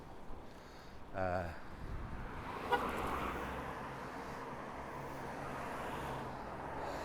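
A car horn sounds in one short, loud toot at a cyclist on a road on Canvey Island, with steady traffic rumble after it.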